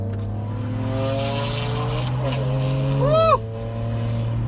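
A BMW F30 335i's engine drones steadily from inside the car, a close, constant tone that rises briefly as the car accelerates, while someone lets out a short whoop.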